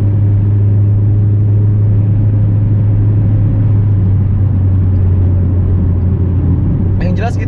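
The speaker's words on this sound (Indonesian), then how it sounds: "tapi suara RPM tingginya enak sih dari knalpotnya" Toyota MR2 W20 (second generation) engine and exhaust held at high RPM from inside the car, a loud steady drone with a strong low hum that continues unbroken throughout.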